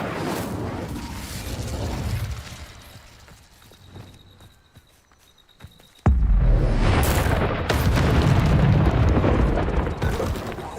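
A fire spell cast in the video game Hogwarts Legacy: a sudden loud burst of roaring flame and crackling effects that cuts in partway through and sustains over busy game noise.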